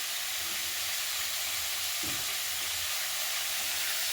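Pork frying in its own rendered oil on low heat, giving a steady, dense sizzle that stays at an even level throughout, with one brief soft knock of a utensil near the middle.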